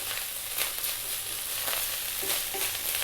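Rice frying in a pan for an Indian vegetarian dish, giving a bright, steady, close hiss of sizzling with faint stirring scrapes, no talk.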